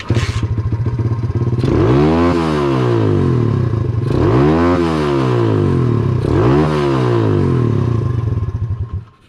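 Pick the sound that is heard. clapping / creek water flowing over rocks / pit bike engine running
pit bike engine running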